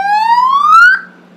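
A VIP police-style siren fitted to a scooter gives one loud rising wail that sweeps steadily upward, then cuts off abruptly near the end, leaving only a faint hum.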